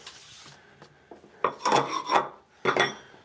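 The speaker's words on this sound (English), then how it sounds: "Where's the scraper? A little bit to clean up off the end of this press here." A metal scraper rasps across the end of a skateboard deck press in a workshop, a few close, rough scraping strokes in short bursts with brief pauses between.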